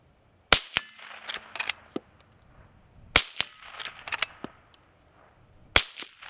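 A suppressed .22 Magnum fires three sharp, evenly spaced shots outdoors, each a snappy close crack followed by quieter clicks and clanks. No one speaks.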